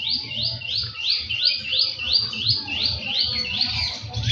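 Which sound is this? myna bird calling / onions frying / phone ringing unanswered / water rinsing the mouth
myna bird calling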